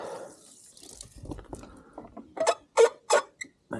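Water from a hose on a pig farm at morning feeding time, heard as a few short bursts of splashing and spraying that grow louder toward the end after quieter handling noises.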